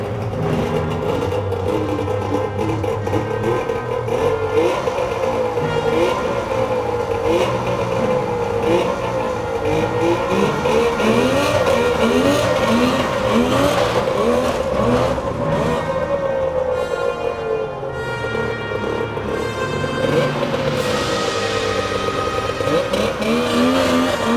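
A Polaris Indy 650 Turbo snowmobile engine runs close and loud for the whole stretch, with a buzzy two-stroke drone that rises and falls through repeated revs and no pauses.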